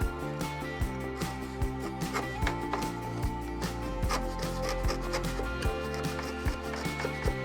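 Hand chisels paring wood for a miter-jointed catch-all tray made from scrap, with steady close scraping and rubbing strokes that come in a repeated rhythm, and no voices.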